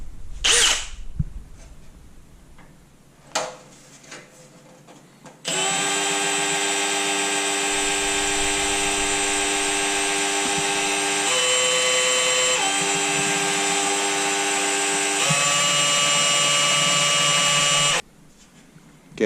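Power drill whining steadily as it bores out soft aluminum rivets on a one-piece headlight for a Mitsubishi Lancer Evolution 5/6, with a few brief clicks before a long, loud continuous run that shifts pitch slightly and then stops.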